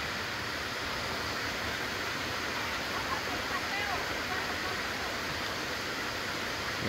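A low-flow waterfall, the Indian waterfall in Pennsylvania, makes a steady, unbroken rush of falling water that holds at an even level throughout.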